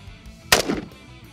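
One sharp gunshot cracks out against a copper skillet, a single loud blast that decays quickly into a short ring amid otherwise quiet outdoor surroundings.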